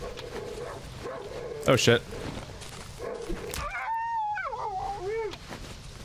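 Dogs in the survival horror game Darkwood bark sharply several times, then whine and whimper in drawn-out rising and falling cries, with someone talking over the start.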